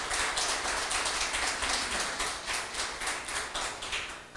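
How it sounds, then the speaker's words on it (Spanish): A church congregation applauding during a service, steady rhythmic clapping from many hands that carries on for several seconds at a moderate distance, with no voices over it. "Dele un aplauso en esta mañana a su nombre"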